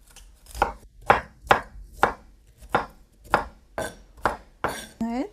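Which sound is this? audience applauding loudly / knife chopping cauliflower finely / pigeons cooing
knife chopping cauliflower finely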